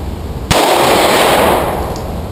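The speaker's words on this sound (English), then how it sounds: "That was a shot. That was the shotgun shell." A single loud shotgun blast fired at a target during an outdoor shooting session, a sharp crack followed by a long rumbling decay, with no talk over it.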